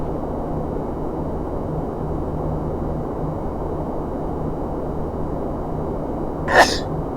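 A lone sneeze pops out briefly near the end over a steady broadband hum of a home flight simulator cockpit, close and moderately loud against the constant background noise.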